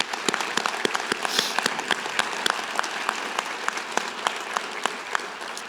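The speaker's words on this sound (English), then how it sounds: "Let's give them a round of applause." A large audience applauds graduating degree recipients at a university commencement ceremony, a dense, steady clapping with sharp individual claps popping out near and far, fairly loud and unbroken.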